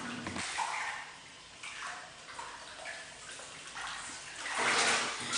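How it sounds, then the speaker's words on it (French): An animal paddles its paws in bathtub water, making continuous sloshing and splashing that swells and fades in waves, with a louder surge of churning water near the end. "Il clapotait avec ses pattes."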